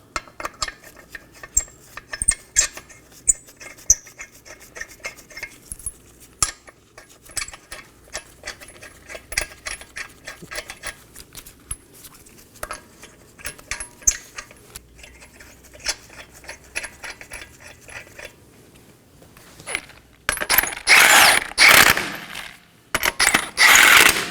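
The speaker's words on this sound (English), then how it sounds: "I'm going to install my 5 21mm lug nuts." Five 21mm lug nuts going onto a wheel of a 2015-2023 Nissan Maxima: light metallic clinks, taps and jangles scattered through a quiet stretch, then a loud burst of spinning or rattling near the end.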